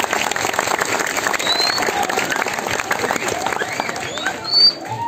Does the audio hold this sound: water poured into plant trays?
no